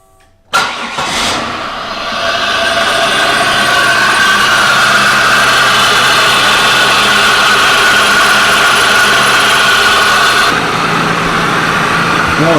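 A Squarebody truck engine cranks and catches with a sharp start, then settles into a steady, loud idle that runs close by for the rest of the clip.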